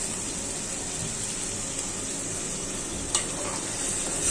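Ash gourd pieces drop into sizzling spiced masala in a pan. A steady, close frying hiss runs throughout, with a brief clatter near the end as the pieces land and are stirred.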